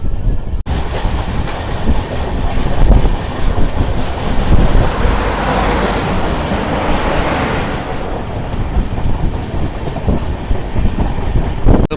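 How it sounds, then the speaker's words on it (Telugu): A Tirupati-to-Varanasi Maha Kumbh special train pulls out of Vizianagaram junction, heard from inside a general coach as a loud, continuous rumble with rail clatter and wind rush throughout. "ట్రైన్ వచ్చేసి విజయనగరం నుంచి అయితే బయలుదేరిపోయింది"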